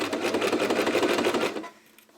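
A sewing machine stitches a shirt seam, a fast even rattle of needle strokes close by that runs for about a second and a half, then stops and leaves a quiet hum.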